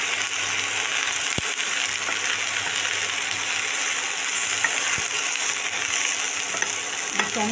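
Chopped chilli, tomato and vegetables fry in a pan for a bok flower dish, with a continuous close sizzle, occasional stirring scrapes and a couple of sharp clinks of a utensil.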